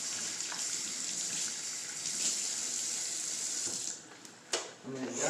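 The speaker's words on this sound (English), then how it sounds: "Wash your hands thoroughly." A faucet runs in a steady, fairly loud gush while hands are washed underneath it in a kitchen, the flow cutting off near the end with a few clicks and splashes.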